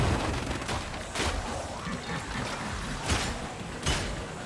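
Repeated gunfire in the Darktide game, rounds punching through walls and a pillar, heard as several sharp bursts roughly every second over a steady noisy battle backdrop at moderate loudness.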